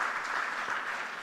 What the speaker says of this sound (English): a big round of applause nevertheless for them